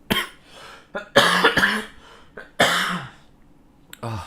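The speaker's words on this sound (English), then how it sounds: "The cough is very, very bad." Several harsh, explosive coughs in separate bursts, close and loud, with short gaps of quiet between them.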